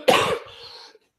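A single harsh cough from an adult during a talk on formulating cosmetics, close and abrupt, trailing off into a raspy breath within a second.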